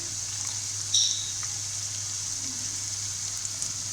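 Chicken frying in a pan while making haleem, a steady soft sizzle with a few small pops and a faint low hum, no talking.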